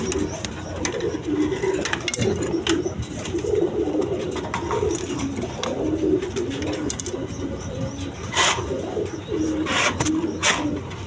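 Big-sized pigeons coo repeatedly in deep, rolling throaty phrases close by, a steady rhythmic chorus punctuated by brief sharp knocks and rustles, with no talking.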